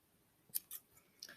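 Scissors snipping through string cut for loom weaving, a few quick close metallic clicks in a quiet room, with one final sharp snap.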